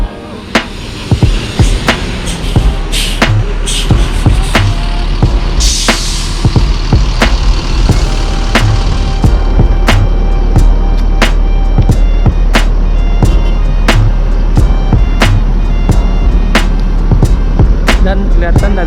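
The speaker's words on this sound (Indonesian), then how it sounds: "dari arah kota Bukit Tinggi baru masuk satu unit bus NPM P20" An NPM P20 Ambassador intercity bus pulls in from Bukit Tinggi, bound for Jakarta, its loud, close engine rumbling steadily under a regular series of sharp clicking ticks and a brief airy hiss.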